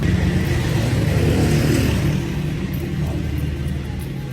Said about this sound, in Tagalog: Ito yung unang truck namin.